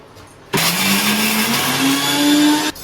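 An 18-year-old Sujata mixer grinder starts abruptly and runs loud and steady for about two seconds, its motor whine rising slightly in pitch, then cuts off sharply.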